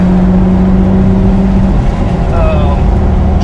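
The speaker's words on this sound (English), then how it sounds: "let you hear the exhaust a little bit" Jeep Wrangler TJ with the 4.0 engine, heard from inside while driving through the gears: a loud, steady exhaust drone with engine hum and a pitch that shifts partway through.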